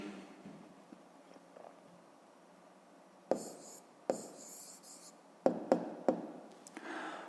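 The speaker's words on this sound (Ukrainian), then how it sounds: "Пишемо тоді відповідь." A pen writes the answer to a fifth-grade math exercise by hand. Quiet, close scratching on paper is broken by a few sharper taps and strokes toward the end.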